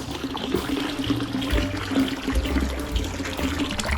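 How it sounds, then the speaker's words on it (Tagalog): Strong water flow from a Pedrollo water pump gushes steadily into a raised drum gravity tank, a loud, continuous splashing rush with no talking. "So kung ganito kalakas na tubig"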